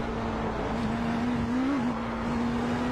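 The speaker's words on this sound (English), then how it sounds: "looks like there's an LMP going by" An LMP prototype race car passes during a sports car race, a steady engine drone with a slight pitch rise and fall as it goes by, set against continuous track ambience at moderate distance.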